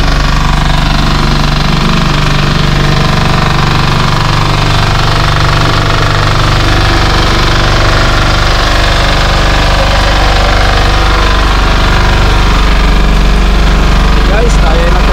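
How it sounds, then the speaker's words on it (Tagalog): A generator engine running aboard a boat out on the Pacific in the early morning, a loud, continuous, close-up mechanical drone with heavy vibration and knocking throughout. "Ayan, gumagana ang ating generator."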